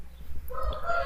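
Roosters crow somewhere off in the background, a strained, stretched call sounding faintly over a low rumbling hum.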